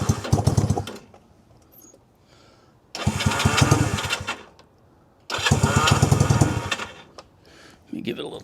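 A Honda CB160 motorcycle engine sputters to life in three loud bursts of rough running, each dying back to near silence between attempts.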